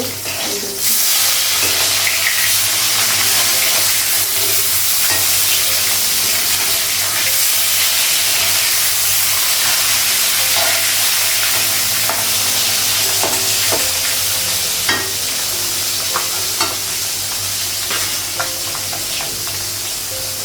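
Meat sizzles loudly and steadily in a hot pan, a dense close hiss with occasional stirring scrapes and pops throughout.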